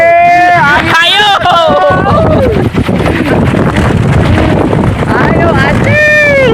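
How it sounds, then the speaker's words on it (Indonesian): Strong wind roars steadily against the microphone at a kolecer (wind-driven propeller toy) site in Cibenda, a loud broadband rush throughout, with a person calling out over it and rising whistling tones near the start and end. "Ayo Cil, ya angin loba Cil."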